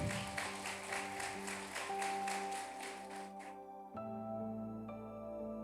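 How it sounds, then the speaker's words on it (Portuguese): A church congregation applauds in rhythmic clapping through the first few seconds at a Wednesday service, over sustained organ or keyboard tones; the clapping stops and the music continues alone. "aplauda ao Senhor"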